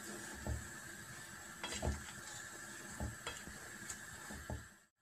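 A spoon stirs coconut paste into a pot of simmering Tirunelveli vellai kulambu, soft scraping strokes and clinks against the vessel at an irregular rhythm over a faint bubbling hiss, quiet and close.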